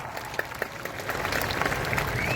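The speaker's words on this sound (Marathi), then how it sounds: "एकदा जोरदार टाळ्या होऊन जाऊ द्या" A crowd at an outdoor wrestling ground in Moshi, Pune, breaks into applause that starts as scattered claps and swells into steady clapping over a couple of seconds, heard from within the audience.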